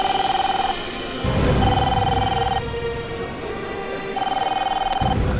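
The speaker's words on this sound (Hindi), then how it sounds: "हाँ फोन यहाँ से बज रहा है" A telephone bell rings in repeated bursts, three rings separated by pauses, loud and close, with a low rumble and shuffling movement between them.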